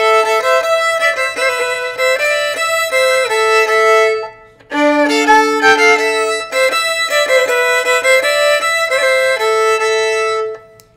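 A solo violin plays the opening section of Korobeiniki, the Tetris theme, as a bright, clear melody with a short pause partway through.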